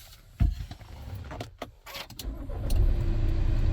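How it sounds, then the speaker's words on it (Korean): A Volkswagen Tiguan with about 139,000 km on it cranks and fires up, a few clicks and a brief starter whir followed by the engine settling into a steady, close idle rumble, with no talking. "그리고 이제 시동 한번 걸어 보겠습니다."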